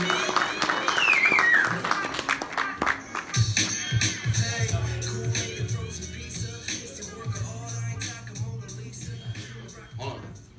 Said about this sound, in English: round of applause for Mr. Matt Haas.